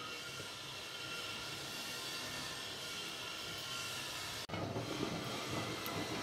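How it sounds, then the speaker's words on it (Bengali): A steamed egg dish, dim bhapa, boiling in a covered pot set in water, giving a loud, constant rushing hiss of steam and bubbling that shifts briefly in tone partway through, with no speech. "দেখো ডিম ভাপা ফুটছে"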